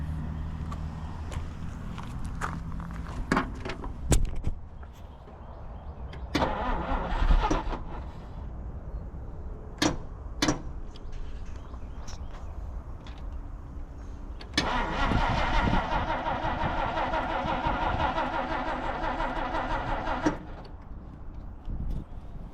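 A 1950 Dodge Meadowbrook engine cranks in repeated short bursts with pauses between them, then catches and runs with a rough, louder churning idle before cutting out, heard up close.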